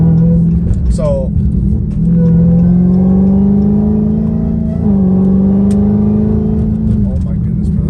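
A Dodge Challenger Hellcat Redeye engine drones loudly and steadily, close by, its pitch rising and dipping as it revs, while a voice talks over it.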